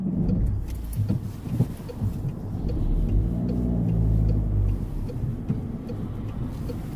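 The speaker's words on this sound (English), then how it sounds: "it's just like traffic after traffic after traffic." Road traffic passes on a street beside a van towing a trailer, with cars rumbling by close to the microphone; one vehicle swells loudly and fades away in the middle, over a constant background of engine noise.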